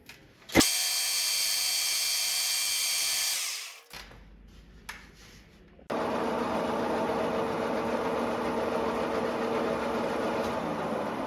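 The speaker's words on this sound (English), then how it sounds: "I began the machining process on the lathe." A metal lathe machining a component for a scratch-built engine, giving a steady loud whine that stops, leaves a few seconds of quieter clatter, then returns as a continuous rougher cutting noise.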